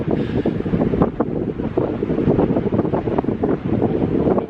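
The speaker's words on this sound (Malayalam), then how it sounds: "കാറ്റും കൊണ്ട് ഒരു രക്ഷയില്ല" Strong wind at a hilltop viewpoint above a deep valley buffets the microphone in loud, continuous gusts with a heavy low roar throughout.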